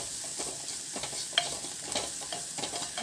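Spices frying in oil with turmeric powder and rock salt for a kuzhambu, giving a steady close sizzle with light stirring scrapes throughout and no voices.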